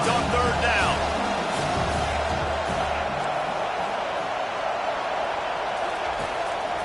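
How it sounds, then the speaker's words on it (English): Stadium crowd at a Kansas State college football game roaring for the defense on third down, a steady, loud wash of cheering and whooping that holds throughout, with a commentator's voice over it early on. "Decibels rising as the crowd gets behind this defense on third down."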